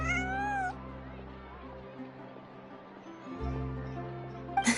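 A cat in the video game Genshin Impact gives one clear, rising-and-falling meow at the start, then a steady low musical hum continues with a brief sharper sound at the end.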